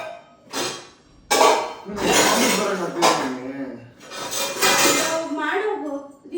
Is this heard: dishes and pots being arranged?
yes